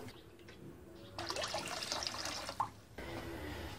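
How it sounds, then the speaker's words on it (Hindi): About a glass of water poured into a cooking pot holding tamarind paste for a plum and tamarind sharbat, a close, splashy gush of a few seconds that starts and stops abruptly over a quiet kitchen background. "अब तकरीबन 1 गिलास और पानी डालेंगे"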